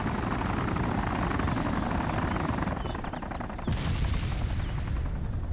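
A helicopter in the video game DayZ Origins drones with rapid rotor chopping, loud and continuous, with gunfire crackling in the mix.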